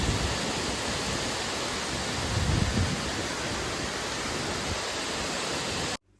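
Roaring waterfall in the town of Saarburg, Germany, a steady, dense rush of falling water that holds loud and close without a break before cutting off abruptly at the end.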